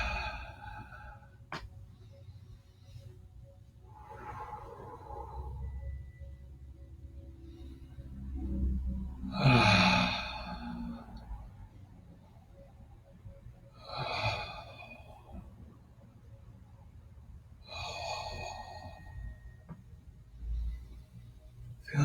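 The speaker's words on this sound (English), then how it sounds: "we're going to be mindful of the breath. Breathing deep into the left side" Slow, deep yoga breaths drawn in and pushed out through the nose and mouth, several long airy inhales and exhales spaced a few seconds apart, close and soft with no talk.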